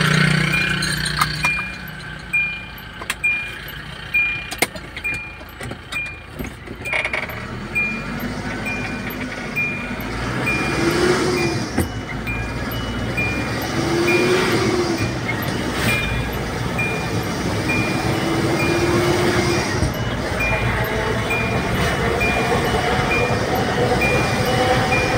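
A Kia Bongo 3 truck with a white- and black-smoke fault runs during a test drive, its engine giving a continuous rumbling drone with rattles and knocks, and a few voices speak faintly over it.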